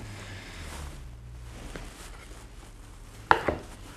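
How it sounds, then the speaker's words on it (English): A knife chopping an avocado in half and into quarters on a board: a few quiet, low taps, then one sharp chop and a second softer cut near the end. "Just chop that in half and into quarters."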